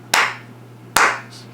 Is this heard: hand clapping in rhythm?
yes